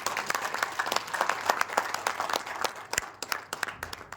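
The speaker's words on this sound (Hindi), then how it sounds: "इस डायमंड आईडी के लिए एक बार कम से कम ताली तो होना चाहिए" Audience applause at an indoor business meeting, a crowd clapping steadily for about four seconds at moderate volume, fading and thinning toward the end.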